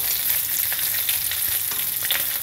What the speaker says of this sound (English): And I cook this bacon in just a little bit of sunflower oil.